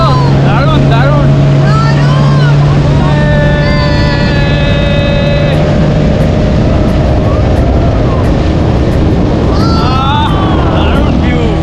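Motorboat ride on a lake, with a loud, steady engine drone and water rush close up throughout, while people talk and exclaim over it.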